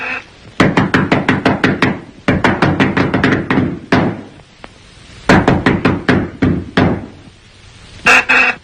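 Sharp knocking on a door in a 1935 film comes in quick, rapid volleys of raps separated by short pauses, loud and close with no speech.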